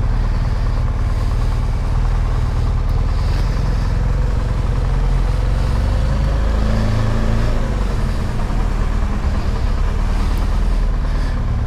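A 2018 BMW R1200GSA motorcycle engine idles nearby, a loud, steady, continuous low rumble that holds without change throughout.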